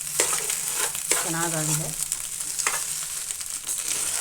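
An egg bhaji, a spiced scrambled egg side dish, is stirred and fried in a non-stick pan, giving steady close sizzling with scraping spatula strokes throughout, while a voice speaks briefly.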